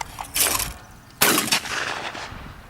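Two loud gunshots ring out at a family shooting range, each a sharp close crack with a lingering echoing tail, about a second apart.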